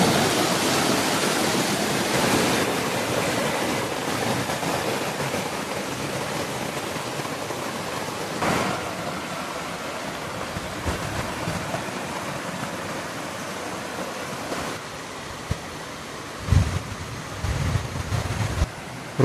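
Curug Cikondang waterfall and river in Cianjur, a steady broadband rush of falling and flowing water that fills the whole stretch, with a few brief splashy bumps near the end and no voices.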